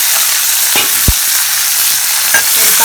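Small onions, or shallots, fry with fenugreek in hot oil for pirandai kuzhambu. A loud, dense, continuous sizzle runs throughout, broken by a couple of soft stirring knocks, with no one speaking.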